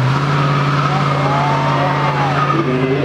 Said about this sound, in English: Cheeky burnout as well, get the power down.